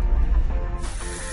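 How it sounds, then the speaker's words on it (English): A steady rushing hiss of water running from a faucet fitted with a touchless smart adapter, close and fairly loud, growing broader and brighter partway through. "touchless faucet adapter."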